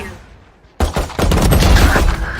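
In a video game, a rifle fires after a brief quiet lull: a sharp, loud report followed by a rapid burst of gunfire with short echoing tails, close and punchy.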